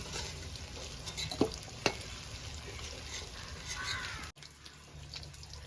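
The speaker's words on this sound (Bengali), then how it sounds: "এবার চিকেনগুলো মোটামুটি ভাজা হয়ে গেছে, এক একটা করে তুলে নেব।" Chicken pieces for Mughlai chicken fry in oil in a kadai with a steady, close crackling sizzle, broken by a couple of sharp clinks and a brief dropout near the end.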